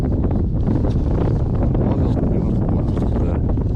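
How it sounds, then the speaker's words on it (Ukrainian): Strong wind buffets the microphone in a constant low roar, loud and close, with no clear speech, outdoors while fishing. "вітер дує"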